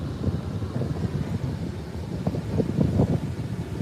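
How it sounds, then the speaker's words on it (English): Steady wind gusts buffet the microphone with a low, rumbling roar at a beach in Australia, constant and close, with no voices present. "you can feel the wind, you can hear the wind"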